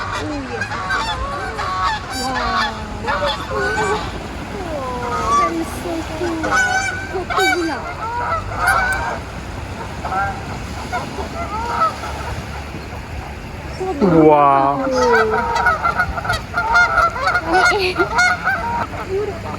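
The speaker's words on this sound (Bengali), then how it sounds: "এটা বাংলাদেশের রাজহাঁস।" Geese honking in a noisy flock as they come down to land, with repeated calls overlapping throughout and a louder burst near the middle, while a voice briefly exclaims.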